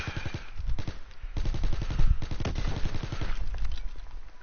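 Rapid automatic gunfire from the Call of Duty WW2 video game's shooting range, sharp bursts repeating in quick, steady rhythm for several seconds, loud and close with no talk.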